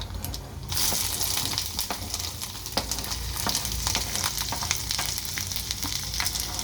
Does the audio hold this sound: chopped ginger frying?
yes